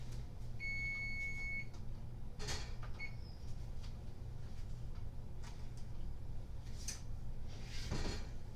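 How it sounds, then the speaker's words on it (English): A kitchen oven timer beeps a short electronic tone near the start, over a steady low hum of a home kitchen where brownies are baking, followed by scattered clicks and cupboard-like knocks. "the timer's going off"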